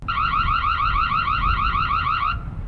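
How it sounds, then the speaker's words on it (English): A loud electronic siren from a Reolink Duo 2 outdoor security camera warbles rapidly and continuously for about two seconds, then cuts off abruptly over a low rumbling background. "So if I tap the alarm, this is what that sounds like."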